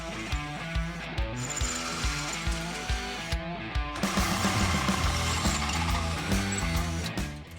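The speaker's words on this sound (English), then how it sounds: "Then we can drill out our holes" Power drill boring holes into a Jeep chassis to mount a transmission cooler, with a steady, loud whirring drive and rhythmic ratcheting pulses close by, under no talk.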